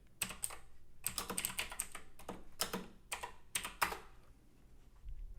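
Bursts of typing on a computer keyboard while entering a terminal command, close and crisp, coming in short clustered runs of keystrokes with brief pauses, no talking.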